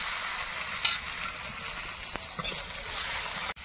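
Chopped tomato hisses and crackles in hot oil with turmeric and salt for a Bengali rohu fish curry, a steady close sizzle with faint stirring scrapes and a sharp knock near the end, no talking.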